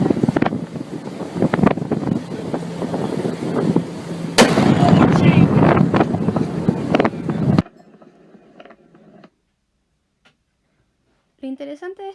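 A volcano's eruption blast and its arriving shock wave make a loud, rough roaring boom with wind buffeting, accompanied by talk, before cutting to near silence and a brief voice at the end.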